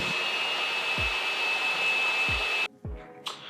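Wooden headboard uprights clamped to a jig are run through a saw to cut grooves, a loud steady whining drone with a few low thumps, cutting off near the end.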